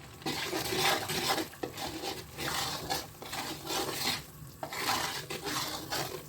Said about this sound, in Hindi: ब्राउन होने तक, जब धीमी धीमी खुशबू आने लगे तब तक हमें सेकना है।